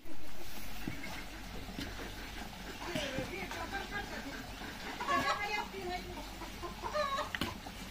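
Chickens cluck in short, scattered bursts around a home yard while someone talks over them, the birds near and moderately loud amid household background.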